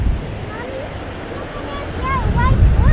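Pacific Ocean surf washing onto the beach at Mazatlan, Mexico, a steady broad wash of breaking waves with wind rumble, swelling louder toward the end, while people talk faintly over it.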